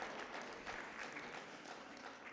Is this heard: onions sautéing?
no